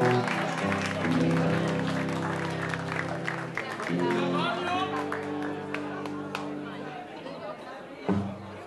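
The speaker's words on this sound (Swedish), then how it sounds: "En stor applåd för Mats!" Concert crowd at a band's 45th-anniversary show applauds a returning member named Mats, clapping mixed with chatter and sustained musical tones from the stage, moderately distant.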